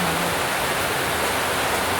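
Heavy rain pours down in an unbroken, loud roar of hiss and rush, steady and dense with no pauses, close by and filling the whole space without any voices.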